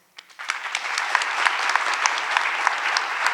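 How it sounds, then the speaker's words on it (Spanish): Warm applause from an audience at a commemorative ceremony honouring a doctor builds quickly after a couple of opening claps into steady, dense clapping that holds at a fairly constant level. "Un aplauso inmenso para el doctor Álvaro Velázquez."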